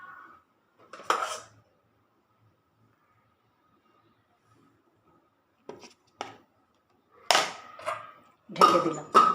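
A metal lid set down over a cooking pot in a home kitchen, giving several short clattering clanks in bursts separated by quiet, close and fairly loud, with no talking.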